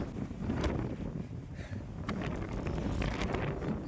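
Strong gusty wind buffets the microphone on a hill fort trail at Vishramgad, a loud, rough roar that surges and dips with no talking.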